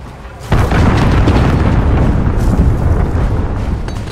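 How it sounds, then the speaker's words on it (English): A cruise missile detonates in a Call of Duty video game match, a sudden loud close blast that swells into a long, heavy rumbling roar and slowly fades, with no talk over it. "Allied cruise missile away."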